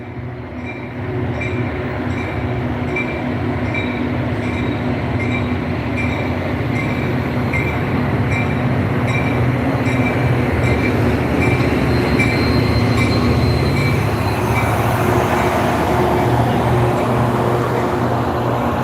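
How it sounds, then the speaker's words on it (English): A train rolls into a station with a steady heavy rumble and rail noise, brakes squealing faintly at high pitch as it slows, loud and close throughout. "I think that's our train right here."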